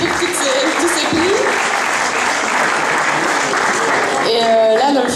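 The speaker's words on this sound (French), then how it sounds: "je pense qu'on peut l'applaudir pour tous ces prix" Sustained applause from a crowd at a youth sports awards event, even and continuous, while a voice speaks briefly at the start and again near the end.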